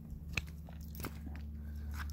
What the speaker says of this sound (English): Lots of crunching over there. The icebergs are breaking apart.